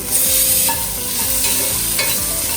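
Vegetables for kathirikai gotsu sautéing in a pan on low heat, with a steady close sizzle and frying crackle plus repeated stirring scrapes of a spoon against the pan, continuous throughout with no talking.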